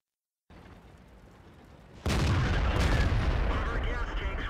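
A tank cannon in World of Tanks, fired from a T29, goes off as a single loud, sharp blast and then a long, heavy rumble that carries on after a quieter stretch of low background noise.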